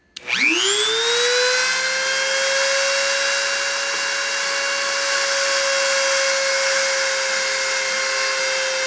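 A machine spindle spins up to 30,000 RPM at the start of a deposition run, rising quickly to a steady, piercing high whine that holds evenly and loud with no voices.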